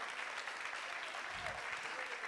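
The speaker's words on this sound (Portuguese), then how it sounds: "Você pode aplaudir o Senhor" A church congregation applauds during a leadership training service, a steady, diffuse clatter of many hands filling the room at moderate level.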